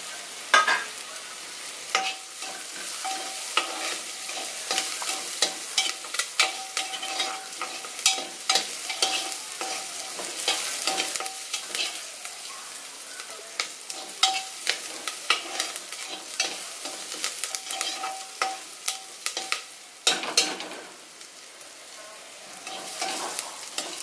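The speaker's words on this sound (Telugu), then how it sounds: "ఇప్పుడు కరివేపాకు, ఎండుమిరపకాయలు కూడా వేసుకోవాలి" Curry leaves and dried red chillies crackle and sizzle in hot oil in a pan for a bottle gourd and tomato curry, a steady spitting hiss broken by scraping stirs and sharp pops, close and alone.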